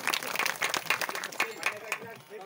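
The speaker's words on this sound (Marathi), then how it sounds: "टाळी टाळी टाळी" Audience clapping at a Marathi kirtan, a quick run of claps that fades after a couple of seconds, with a voice over it.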